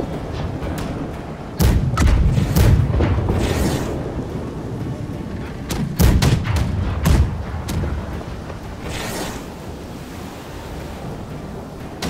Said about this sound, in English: Front cannons.